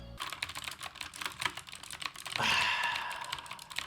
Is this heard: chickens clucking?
no